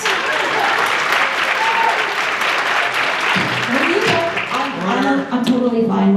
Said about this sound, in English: I'm totally fine with the jeering and applause